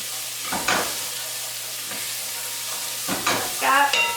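Vegetable soup ingredients stirred in a pot, with a constant sizzling hiss and a few scraping spoon strokes against the pot, plus a brief clink near the end.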